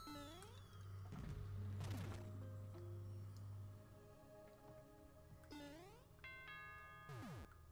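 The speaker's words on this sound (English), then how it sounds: "Ding dong." A ding-dong chime rings out in Super Mario Maker 2, two bright descending tones standing clearly over the game's music and sliding sound effects, with no voices.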